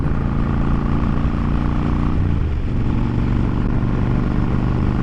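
A motorcycle with an aftermarket exhaust rumbles loudly and steadily with a deep, throaty exhaust note, its pitch dropping partway through as the revs change.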